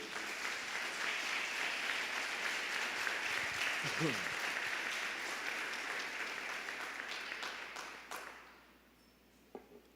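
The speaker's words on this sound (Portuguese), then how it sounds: "Você pode aplaudir a Jesus, por favor?" Sustained applause from a large congregation at a worship service, a dense wash of clapping that fades out toward the end, leaving a quiet room with a faint tap.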